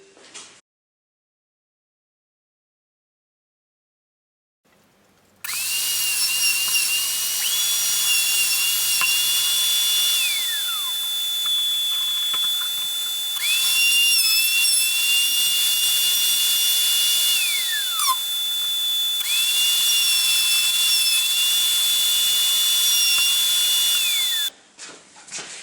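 Power drill boring a series of holes in a DIY MFT router jig, a long loud whine that starts abruptly, holds steady with brief dips between holes, and stops sharply, with no talk.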